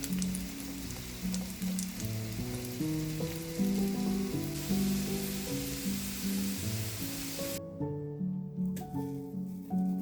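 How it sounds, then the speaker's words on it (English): Carrot sautéing in a pan gives a soft, steady sizzle and frying crackle under a continuous layer of background music, fading lower near the end. "Sauté the carrot."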